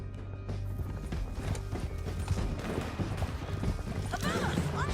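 Horses ridden at a gallop in the video game Red Dead Redemption 2, with steady hoofbeats and tack rattle under a dense game soundscape and a brief whinny near the end.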